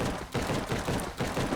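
An upgraded rifle in the video game Biomutant fires a rapid stream of shots, each loud burst running into the next with only short gaps, and no talking.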